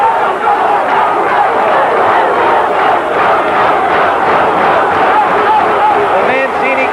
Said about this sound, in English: The Mancini crowd comes alive, urging on this exciting young challenger